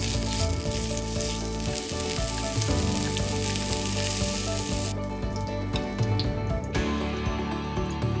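Beef rolls searing in a pan still slick with leftover oil, turned about as they brown; a steady close sizzle fills the whole stretch with faint stirring and scraping beneath, the hiss dimming briefly midway before rising again.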